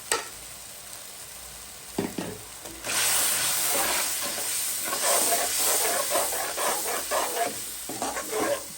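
Vegetables frying with turmeric, chili, coriander and cumin while cauliflower, potato and eggplant cook for a rohu fish curry, a steady close sizzle and hiss with scraping stirring strokes and no talk.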